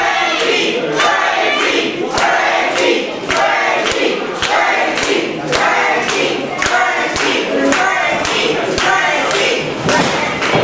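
Wrestling arena crowd roaring steadily for Frankie Picard, punctuated by loud rhythmic thuds and stomps roughly every half second, a dense continuous wall of noise throughout.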